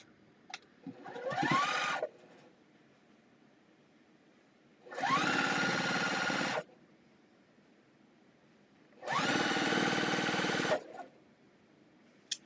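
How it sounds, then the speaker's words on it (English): A sewing machine stitches quilt pieces together in three separate bursts of rapid, even whirring, each lasting about two seconds, with quiet pauses and small fabric handling noises in between. "you're going to sew it together"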